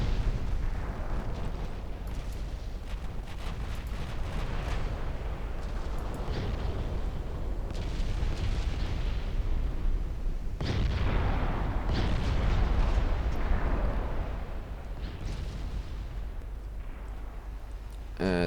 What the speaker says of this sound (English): Seven-inch guns can start working.